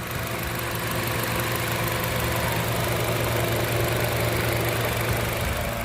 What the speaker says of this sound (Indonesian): Ini mesin nyala ya, itu kelihatan.